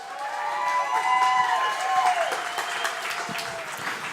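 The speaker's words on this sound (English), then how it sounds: "You can cheer, it's okay." Audience at a church grand-opening ribbon-cutting ceremony cheering and applauding together, a steady, dense wash of clapping mixed with whoops and shouts over a few seconds, with voices audible throughout.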